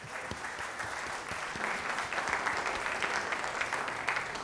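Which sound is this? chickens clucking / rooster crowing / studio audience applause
studio audience applause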